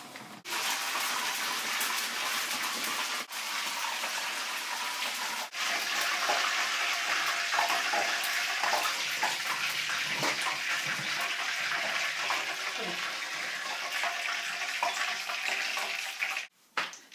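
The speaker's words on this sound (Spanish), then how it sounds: "Vamos a freír, que dijimos ayer, unos trocitos de pan y el higadito del conejo también" Small pieces of bread and rabbit liver fry in a pan with a steady, dense sizzle and crackle that runs loud and unbroken for many seconds, with a few sharp clicks.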